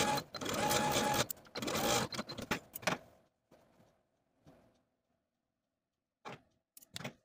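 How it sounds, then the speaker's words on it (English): A sewing machine sewing a dart in dress fabric runs in fast mechanical bursts for about three seconds, then stops; a few faint clicks and short handling noises follow. "take it to your sewing machine and sew from one end of the dart to the tip"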